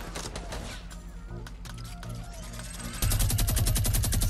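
Gunfire rattles in Fortnite Battle Royale as a steady stream of rapid shots, then a louder, denser burst of automatic fire takes over near the end.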